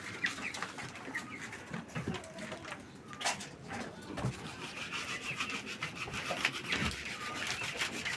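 Pet birds, chickens and a rooster among them, busy eating and drinking in their enclosure: soft pecking, rustling and scattered clucks with occasional calls, a steady close-up farmyard bustle with no talk.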